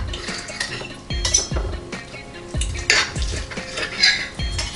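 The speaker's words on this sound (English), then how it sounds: "I'm just gonna make myself a couple slices for taste testing" Knife and fork working through roast turkey breast on a plate, with repeated clinks and scrapes of cutlery against the dish at an uneven pace, fairly close and moderately quiet.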